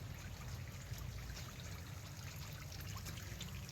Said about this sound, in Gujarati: અટાણમાં જા આમાં પાણી ચાલુ થઈ ગયું